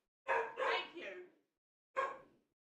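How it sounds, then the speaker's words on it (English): A dog barks three times in quick succession, then once more after a short pause; the barks are close and clear against otherwise silent surroundings. "There's a lot of barking."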